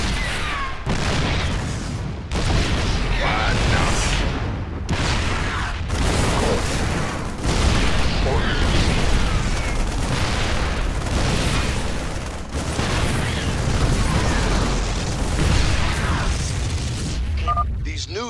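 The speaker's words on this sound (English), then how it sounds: "These babies will knock those cannons down from a nice, safe distance." Siege tank artillery booms repeatedly in StarCraft 2, a run of loud blasts and explosions across the clip, with game voices and battle noise mixed in.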